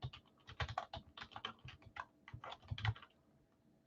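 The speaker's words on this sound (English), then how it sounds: "I will start typing them up here" Typing on a computer keyboard, a rapid, irregular run of soft, close key clicks and taps at low volume with no talking.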